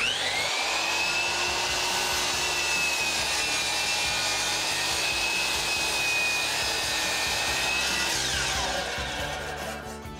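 A power saw whines steadily through a wooden board, cutting it to length for a foot stool, loud and close, its pitch dropping as the cut finishes near the end.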